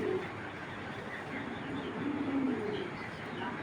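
Racing pigeons, including a pied shadel hen, coo softly in a low, rolling murmur that swells once near the middle, faint against steady background noise.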